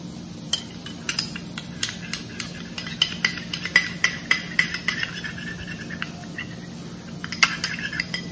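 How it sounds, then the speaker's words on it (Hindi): A spoon stirring curd into tamarind raita in a bowl, giving a run of sharp, evenly spaced clinks and scrapes against the bowl, fairly close, with a low steady hum behind and no talking. "मिक्स कर रही हूं."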